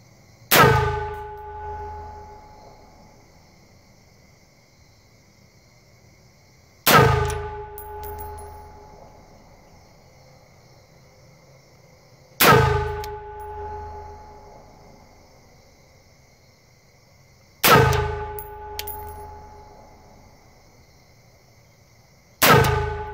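Four sharp, loud shots go off several seconds apart, each a sudden bang ringing out and fading with a metallic tail. The ammunition has been treated with WD-40.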